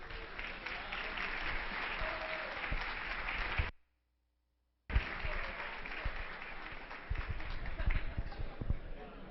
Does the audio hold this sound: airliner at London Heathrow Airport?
no